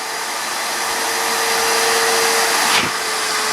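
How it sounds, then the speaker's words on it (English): A Hoover vacuum cleaner pulls air through a badly clogged diesel particulate filter removed from a car, making a loud, continuous strained whine with a constant hum that shifts briefly near the end. "Just listen to the tone of the Hoover."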